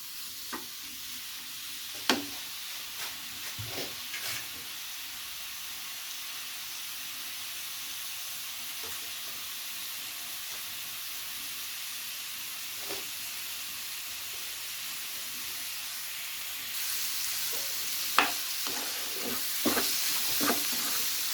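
Chicken pieces for chicken shashlik fry quietly in a pan, giving a soft, steady sizzle. Occasional clicks and scrapes of stirring come through, and the hiss grows a little louder near the end.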